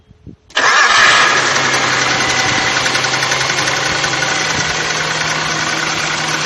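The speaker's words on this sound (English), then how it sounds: "So that's starting the engine right after changing the distributor." A Nissan engine, fitted with a newly replaced distributor, cranks briefly and catches, then settles into a loud, steady idle with no talking.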